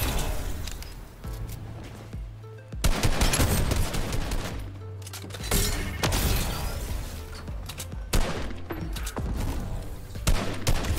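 Rapid gunfire bursts in a battle-royale video game, sharp volleys and single shots crackling across the whole clip, loud and close, with some clatter of mechanisms between them.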